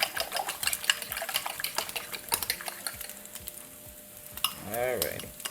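Eggs poured into a pan of precooked sausage for an egg and sausage tortilla, with steady sizzling and frequent scraping, stirring clinks from a utensil against the pan, close and continuous.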